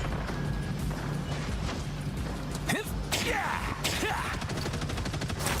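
Rockets launch in rapid succession in the hero shooter Marvel Rivals, with whooshing swoops and bursts over constant gunfire and mechanical clatter, loud and busy, while a voice talks underneath.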